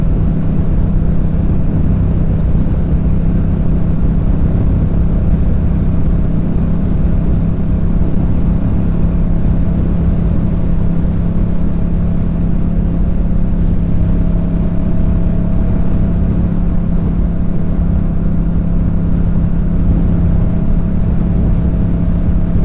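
Motorbikes race around a track on an open track day, heard as a constant roaring engine drone with steady wind-like rumble, loud and unbroken throughout.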